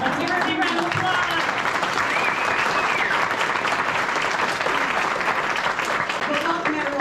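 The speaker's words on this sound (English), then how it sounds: "Let's give her a big round of applause." Steady, loud applause from a crowd at a community forum, sustained throughout with no break.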